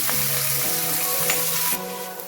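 Onions, green chillies and curry leaves fry in hot oil in a pan and get stirred, making a close, bright, steady sizzle that drops abruptly in loudness near the end, with no voices.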